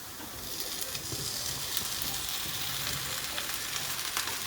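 Okra and fried onions sauteing in masala for bhindi do pyaza, a steady close, dense sizzle and frying crackle with faint stirring clinks throughout, no talking.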